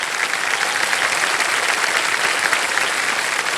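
Studio audience applause on a televised quiz show, a dense, even burst of many hands clapping together, loud and sustained with no talk.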